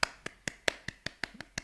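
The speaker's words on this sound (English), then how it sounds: "Round of applause." A single person clapping hands slowly at a podcast wrap-up, about nine sharp, evenly spaced claps close to the microphone, fairly quiet, with no talk.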